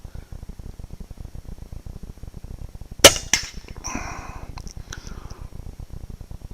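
A rifle cracks sharply once during a shoot test outdoors, followed by a second quieter report and some rustling, with no talking.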